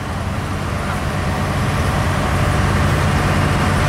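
A pulling tractor's engine runs at a tractor pull, a loud steady low roar throughout the short stretch with no talking.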